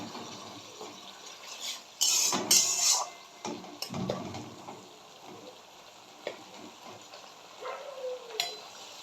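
Ground spice paste fries in oil over medium heat for a Bengali banana-flower and coconut ghonto: a soft steady sizzle, with louder scraping and stirring clatters that come and go.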